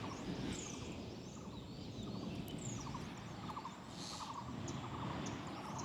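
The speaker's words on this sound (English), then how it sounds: "Can you hear the birds?" Birds calling in repeated chirps and gobbling notes outdoors at sunrise in India, moderately distant, over a steady background hum, no talking.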